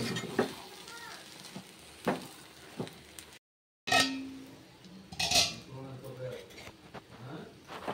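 Semiya and wheat rava upma stirred in a pot, with a spoon scraping and clinking in short strokes over a steady low sizzle, broken by a brief gap, while a person talks through much of it.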